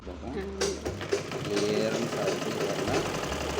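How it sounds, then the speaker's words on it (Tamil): Repaired tailoring sewing machine running steadily at close range, its mechanical whirr and rapid ticking continuous after a brief start, with a voice talking over it. "இப்போ மாட்டினதற்கு பிறகு மிஷின் எப்படி தைக்க போகுது அப்படிங்கிறத நம்ம பார்க்க போகிறோம்"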